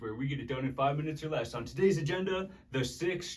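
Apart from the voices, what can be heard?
No distinct noise like a dog, phone or traffic.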